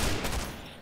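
Gunfire from the online shooter Point Blank comes as one short burst of shots, loud at the start and then trailing off quickly within a second.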